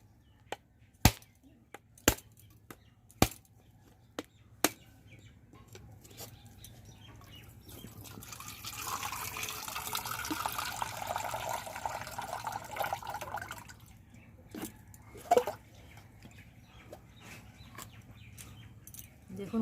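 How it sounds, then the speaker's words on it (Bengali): A large freshly husked coconut from a village tree is cracked open with a series of sharp, loud chopping blows at the start, followed by a stretch of splashing water as the liquid spills out. "এবার আমি নারকেলটিকে ফাটিয়ে নেব।"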